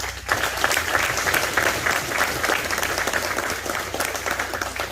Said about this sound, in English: And how about a round of applause for Sean?